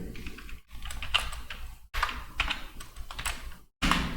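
Rapid clattering keystrokes on a computer keyboard while entering data in Tally Prime accounting software, in quick bursts broken by brief pauses, close and crisp with no talking.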